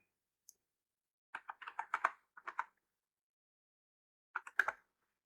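Keys on a computer keyboard tapped to enter a one-time passcode: a single isolated click, then a quick run of about a dozen close, crisp keystrokes, a pause, and a final short burst of several keys, in a quiet room.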